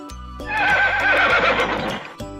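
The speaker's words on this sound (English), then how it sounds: "Horse." A horse whinnies once, loud and close, a long shaky neigh lasting well over a second and ending abruptly, heard alone with no talk around it.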